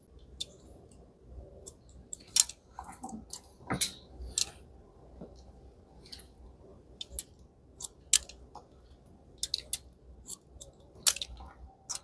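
Scissors snip through hair during a layered, disconnected haircut for a hairdressing master exam, giving sharp, irregular clicks and cuts close to the mic, some in quick bursts, against a quiet room.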